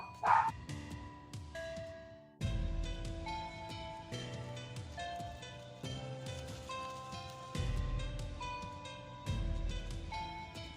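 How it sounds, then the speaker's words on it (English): Dogs bark in short, scattered bursts somewhere in a home, heard alongside steady tonal background sounds with no talking. "You guys can hear my dogs barking."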